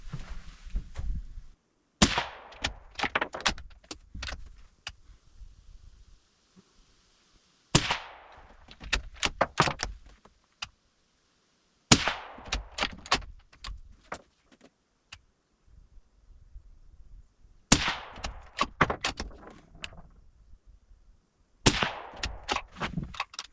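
An air gun fires pellets at paper targets in bursts of sharp, close cracks, with quiet gaps between each group of shots and no talking.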